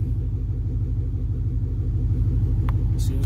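A 2007 Chevrolet Impala SS idles steadily nearby after a spark plug and wire replacement, a low, even engine rumble with a brief click near the end.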